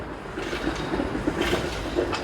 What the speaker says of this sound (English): There goes the 511 Bathurst streetcar.